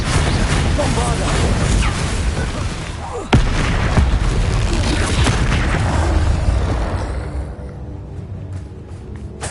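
A Bombarda spell from Hogwarts Legacy goes off as a sharp, heavy blast about a third of the way in, set among dense battle noise and rumbling impacts, with a caster's voice nearby.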